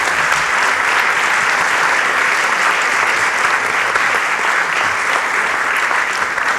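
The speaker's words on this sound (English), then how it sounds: "Join me in giving them a round of applause." Sustained, loud applause from an audience at an evening event on immigration, steady clapping filling the room for several seconds with no break and no voices standing out.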